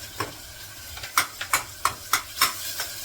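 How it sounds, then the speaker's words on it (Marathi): Ground masala paste sautéed in a pan over high gas, with a series of sharp sizzling bursts as the paste is stirred, about eight quick hisses in a row, close and with no talk. "मी परतून घेते एक मिनिटभर बघा मसाले चांगले परत मी फास्ट गॅसवर परतवले"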